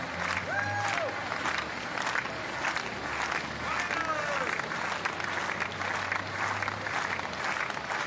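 A home crowd at a women's high jump competition in Borås applauds and cheers steadily throughout, with a commentator talking over the sustained clapping.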